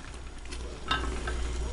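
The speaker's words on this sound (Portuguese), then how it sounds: "dou uma mexidinha" Meat frying in a large 7-litre soup pot as it gets stirred, a steady close sizzle with a brief scrape of the spoon partway through, no voices.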